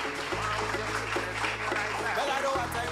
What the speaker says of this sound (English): Give the secretary another round of applause.